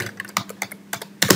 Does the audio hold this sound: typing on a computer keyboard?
yes